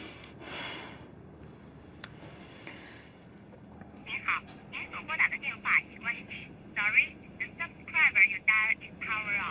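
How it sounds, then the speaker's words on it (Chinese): A telephone call is placed in an urban drama scene: after a quiet, faintly noisy stretch, a run of short electronic phone tones beeps in an uneven rhythm, fairly close and clear, with no talk over them. "你再给他打个电话"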